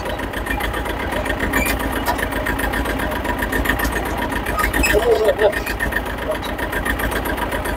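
A farm tractor's engine idles steadily at close range, a constant low rumble that runs the whole time while people talk over it.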